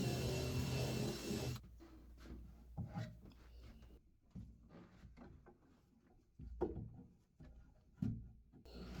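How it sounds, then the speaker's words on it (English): A wire brush scrubs across wood to distress it, giving a series of faint, scratchy rasping strokes at an uneven rhythm after a brief louder burst of noise at the start. "I'm just using a wire brush, going around a lot of the wood."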